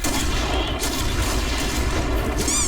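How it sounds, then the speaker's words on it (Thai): A grenade explosion in the video game Point Blank, a loud dense blast and rumbling gunfire filling the whole moment, close and continuous. "ระเบิด โอ้ระเบิดอีกลูกมันอ่ะ"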